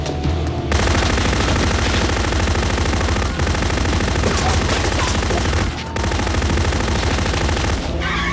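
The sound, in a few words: gunfire in a gangster hit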